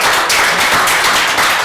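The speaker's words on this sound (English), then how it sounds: "Folks, please, let's leave the applause" Applause from the audience at a public planning meeting: dense, loud clapping from many hands filling the room evenly for under two seconds, with no talk above it.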